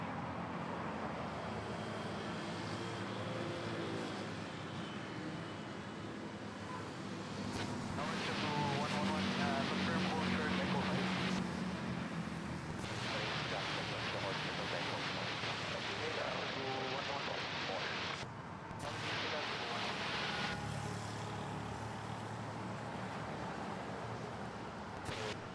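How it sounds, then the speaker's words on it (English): An Airbus A320neo arrives at Manila airport with a broad, sustained roar of engine and rushing air, swelling and shifting over the span, while someone talks over the noise. "A320 Neo arriving from Katiklan."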